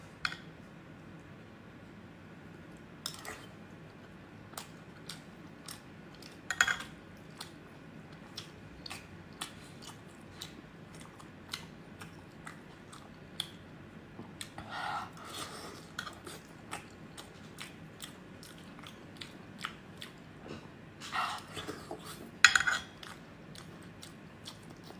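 Someone eats mutton curry with rice close to the microphone, with soft, sparse chewing and small clicking mouth sounds spread out over a quiet background, plus a few louder smacks near the end.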